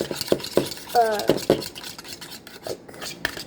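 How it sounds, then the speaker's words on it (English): A fork whisks egg yolks in a bowl for breakfast. It makes quick, irregular clinks and scrapes against the bowl, close up, with no talking. "We're just going to whisk at the egg yolks until they all break"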